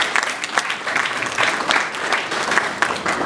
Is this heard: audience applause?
yes